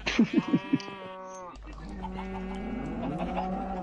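Chickens in Minecraft cluck in a quick burst of four or five short notes at the start, followed by softer game noises and a voice talking over the scene.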